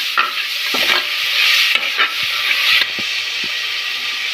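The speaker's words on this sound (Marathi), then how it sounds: "बारीक चिरलेला टोमॅटो मिक्स करून घेऊया आपण। 2 मिनटं आपण त्याला शिजवूया।" Finely chopped tomatoes for a vegetable biryani are stirred in a hot pan, giving a steady close sizzle with scraping and clinking of the spoon throughout.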